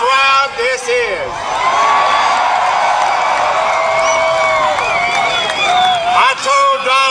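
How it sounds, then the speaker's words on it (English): A huge outdoor political rally crowd of thousands in Madison, Alabama, cheering and whooping continuously, a loud dense roar with shouts and whistles rising above it, and a voice cutting in near the end. "Wow, what a crowd this is."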